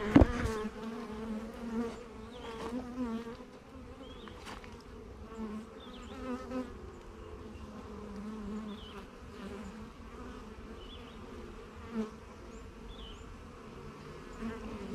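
Honey bees buzz steadily around an open hive during a queen check on a beekeeping frame, a dense, continuous hum with occasional closer passes and faint handling bumps.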